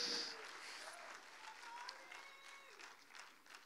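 An audience claps for a woman running up to claim a prize at a motivational talk, sustained applause from a crowd in a hall, fading gradually over several seconds, with faint voices mixed in.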